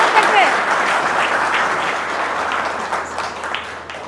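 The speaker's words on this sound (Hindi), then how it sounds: "आइए तालियों के साथ अपने साथी का स्वागत करते हैं" Audience applause welcoming a performer onto a stage at a Raksha Bandhan poetry event, a dense wash of clapping that holds steady and fades a little toward the end, with some voices mixed in.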